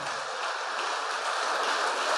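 A church congregation claps together, a steady, dense patter of many hands that continues unbroken and slightly swells toward the end, heard from within the hall.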